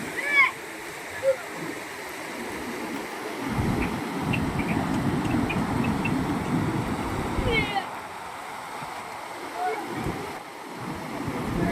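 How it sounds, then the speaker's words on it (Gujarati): Rainwater after heavy rain rushes over a river bridge near Mahuva, a continuous broadband roar of flowing water, moderately loud and steady, with brief dips and a few faint background sounds. "4 કલાકથી એક ધારું પાણી હાલ્યું છે"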